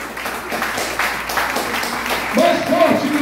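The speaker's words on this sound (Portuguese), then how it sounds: "dá um forte aplauso ao Senhor" A church congregation applauds steadily throughout, with a voice speaking over the clapping toward the end.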